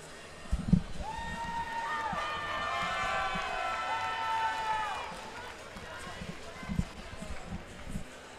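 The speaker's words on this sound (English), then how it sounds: "Great ovation here by the crowd for both fighters." A boxing crowd at a CES Boxing card gives both fighters a sustained ovation after Julio Garcia vs Joe Gardner, a steady roar of cheering and applause with shrill whistles rising above it, fairly loud and continuous.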